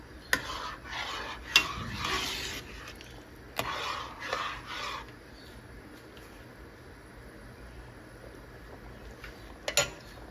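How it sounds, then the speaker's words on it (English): A spoon stirs Kashmiri mutton yakhni pulao in a cooking pot, giving scraping, clinking strokes in a few bursts with sharp metal knocks, then a quieter stretch of low background hiss before one more clatter. "Gonna give it a stir."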